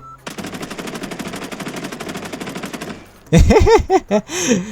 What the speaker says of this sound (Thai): ดี๋ยวจะลองยิงแบบคุมปืนดูนะ